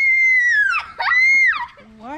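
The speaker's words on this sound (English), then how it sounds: "why is she screaming?" A girl lets out a loud, high-pitched scream that wavers and breaks into a second sustained shriek, then trails off into softer whimpering vocal sounds, close and intense, during a spicy-chip challenge at home.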